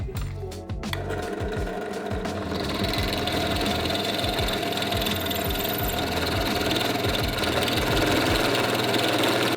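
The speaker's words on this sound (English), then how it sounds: "Now I can drill a small hole into the pin using my pillar drill." A pillar drill runs with a steady mechanical hum and rhythmic chatter as it bores a small hole into a metal brake caliper pin from a Honda CB250 Super Dream, growing slightly louder toward the end.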